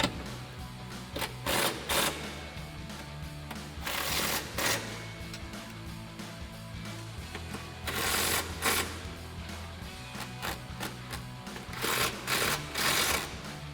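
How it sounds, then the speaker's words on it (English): A 13mm socket ratchet tightening bracket bolts on a 2022-2023 Toyota Tundra side step bar gives rapid bursts of clicking in repeated runs, close and fairly loud over a steady background hum, with no talk. "we're going to take our 13mm socket, we're going to tighten these down"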